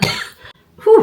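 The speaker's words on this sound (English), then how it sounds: "sorry, I had a cough attack." A short coughing fit, close and loud: a harsh burst of coughs at the start, a brief quiet gap, then another rough cough at the end.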